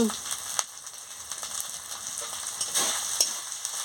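Whole cumin seeds sizzle in hot oil with a constant, fine hiss and a few light pops, close and fairly quiet, with no talking.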